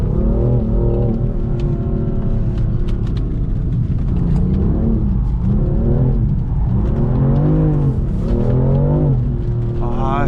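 The engine of a BMW M4 revs hard while drifting, a loud, steady roar that rises and falls with the throttle and never lets up, with tyre noise mixed in.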